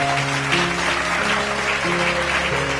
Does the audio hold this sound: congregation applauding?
yes